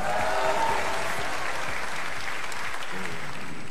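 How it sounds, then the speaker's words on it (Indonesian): Studio audience at a live Indonesian television talk show broadcast on stage at Udayana, clapping in sustained, dense applause that fills the whole stretch at steady loudness, with faint crowd murmur beneath. "Tepuk tangan sekali lagi dong."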